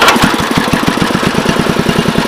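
A Bolens 1050 garden tractor's small engine runs close and loud, with a rapid, even chugging pulse after starting easily.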